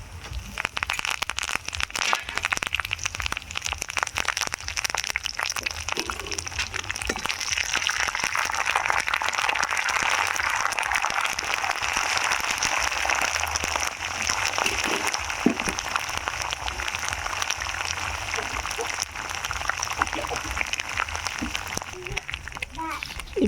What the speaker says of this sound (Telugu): ఇప్పుడు ఫ్రెష్గా కోసుకొని కరివేపాకుని వేసుకొని చిట్పట్లాడే వరకు ఫ్రై చేసుకోవాలి.